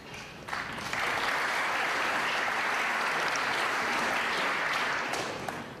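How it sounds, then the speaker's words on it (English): A snooker crowd at the Paul Hunter Classic applauds a safety shot, a sustained round of steady clapping that swells quickly and holds evenly before tapering slightly. "He's getting plenty of encouragement from the crowd, Patrick Einsle"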